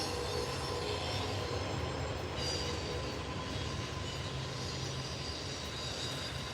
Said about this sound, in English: It's a Chicago to Jacksonville train.